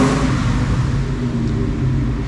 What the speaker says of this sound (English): Revs up nice and smooth.